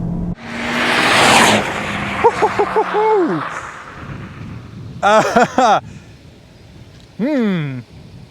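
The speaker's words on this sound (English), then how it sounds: "we've got a front-wheel drive car here and it is spinning its wheels up in these wet conditions" A front-wheel-drive Honda Civic Type R FK8 laps a wet track, its engine revving loudly in repeated climbing and falling bursts through gear changes, with a broad rush of spray and wind noise early on.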